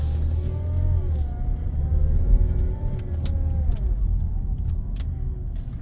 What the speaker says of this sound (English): Transmission does not sound happy.